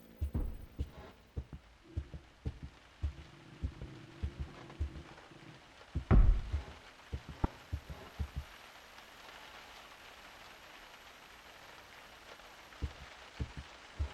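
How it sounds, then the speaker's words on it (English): Wild knocking on a door in the video game P.T. comes as irregular, heavy thuds and bangs, with one louder slam partway through, over a hushed, hissing background. "the wild knocking is now heard"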